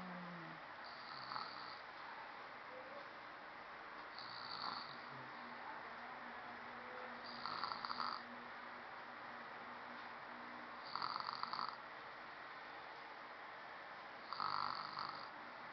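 Small child sleeping after anesthesia, snoring softly in regular breaths about every three seconds, faint and close in a quiet room, with no talking.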